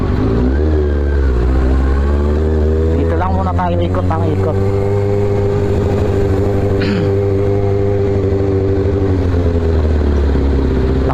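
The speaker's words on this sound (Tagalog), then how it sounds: "bigla nating i-drive tong 600cc, tapos it's sports bike pa" A 2005 Kawasaki ZX6R 600cc sports bike engine hums loud and close while riding, its pitch rising and falling with throttle changes, while a rider talks over it.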